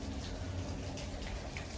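Water dripping and splashing steadily inside a derelict, abandoned historic paper mill building as snow and ice melt off the roof, a dense rain-like patter filling the space at close range with no talk.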